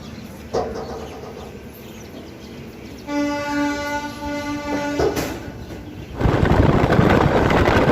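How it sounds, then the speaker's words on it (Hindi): Gorakhdham Express passenger train running out of Gonda Junction, a steady rumbling roll of wheels and carriage noise with a long sustained horn blast in the middle, then a louder rushing surge near the end. "सो हमारी ट्रेन डिपार्ट कर चुकी है गोंडा जंक्शन से"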